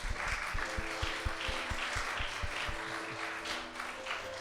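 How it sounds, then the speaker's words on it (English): A live audience applauds the podcast producer at a show in Manchester, steady clapping from a crowd with a few louder close claps and a low hum underneath, fading slightly near the end. "Let's have a round of applause for Gary."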